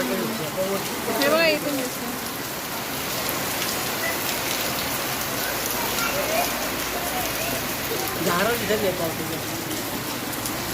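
Season's first rain falls in Mumbai, a steady, close hiss of drops on surfaces, with voices talking now and then over it.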